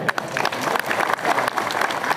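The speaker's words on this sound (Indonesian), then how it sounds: "Yang ini beri tepuk tangan lagi ya" A crowd claps loudly at a Dharma Santi interfaith gathering in Gandusari, Blitar, sustained close applause with uneven clustered claps and no talk over it.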